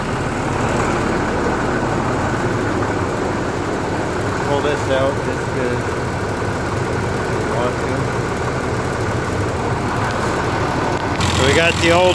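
An old 2950 tractor engine idles steadily while warming up, a continuous loud rumbling drone close by that runs throughout with little change.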